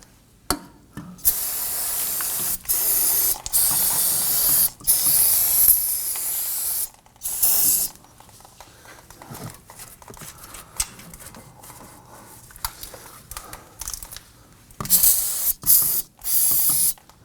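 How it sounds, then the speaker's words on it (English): Bursts of solvent cleaner spray hiss from an aerosol can in several long and short blasts, separated by quiet rubbing and handling sounds. "We're just going to use a spray solvent and a rag."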